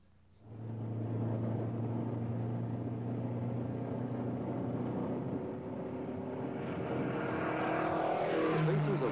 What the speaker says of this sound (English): seeing this research car put through its paces for the first time